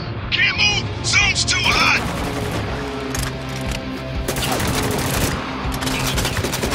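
Rapid automatic gunfire in the shooter game Spec Ops: The Line, bursts of loud repeated shots over a background of game noise, with a voice speaking near the start.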